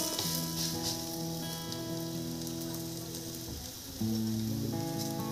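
An aloo paratha laid in ghee on a hot pan sizzles in a steady, close hiss, and the frying swells louder partway through as more ghee goes on.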